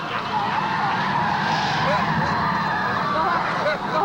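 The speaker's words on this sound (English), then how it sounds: "Foster will wreck almost everybody on the track as we come down to a red flag." Stock cars skid and pile up on the 1993 Speedrome race track during a multi-car wreck before a red flag. A steady, loud roar of engines and tire scrubbing runs throughout beneath continuous excited commentary.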